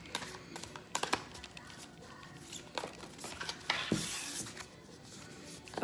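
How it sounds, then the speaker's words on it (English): Tarot cards are shuffled in soft riffling and tapping bursts, quiet and close, with brief rustles and pauses between handfuls and no talking. "Let me shuffle a little bit more, please."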